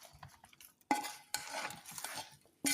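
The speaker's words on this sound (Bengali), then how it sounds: "এখন এটার আমি একটু হালকা মিক্স করে নিতে আসি।" Potatoes and meat lightly mixed in a pot with raw oil, spoon scrapes and clatters in short bursts separated by near-quiet gaps, close and fairly soft, with no talking.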